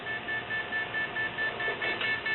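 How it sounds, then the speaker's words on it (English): An explosives trace detector alarms for RDX: a steady electronic tone pulses in a regular on-off pattern, about ten short repeating beeps over a couple of seconds, clear and unbroken by speech. "And we got an alarm for RDX."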